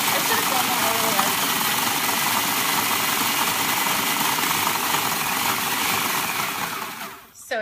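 Food processor whirring loudly and steadily as it chops graham crackers into crumbs, a harsh continuous motor roar close by for several seconds before it stops abruptly with a brief clatter at the end.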